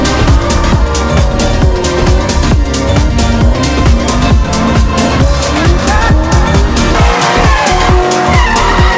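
A pink 700hp HSV GTSR Maloo ute drifts with loud, continuous tire squeal and a roaring, revving V8 engine, close and unbroken throughout, with music playing underneath.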